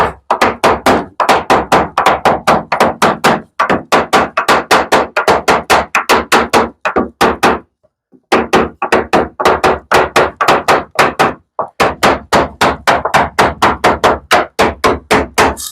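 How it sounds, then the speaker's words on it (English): A hammer taps pieces down level with dozens of loud, close, evenly paced blows in quick bursts, separated by a few short pauses. "I'm going to tap it down to make sure they're all"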